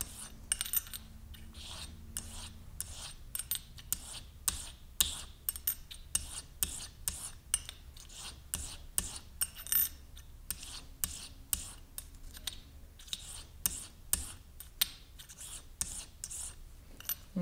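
A three-blade broadhead being drawn across a sharpening stone: a quick series of quiet, close rasping strokes in steady rhythm, each a short scrape, with no talk.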